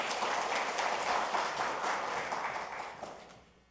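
An audience at the 2023 first self-sufficiency policy forum in Korea claps to welcome a lawmaker, a full, steady round of many hands that gradually fades out near the end.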